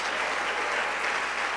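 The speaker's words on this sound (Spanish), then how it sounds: "Denle ese aplauso a Jesús" Dense, even clapping from a church congregation, many hands applauding at once in a sustained, loud burst with no voices standing out.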